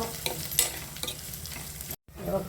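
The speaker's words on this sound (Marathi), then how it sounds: "लसण अद्रक अच्छा खूप त्याची पेस्ट टाकायची बर बर त्याला पण चांगलं तळून जायचं" Garlic-ginger paste fries in oil with curry leaves for a rustic Maharashtrian wild-vegetable dish. A close sizzle with scraping stir strokes, briefly cut by a short dropout near the end.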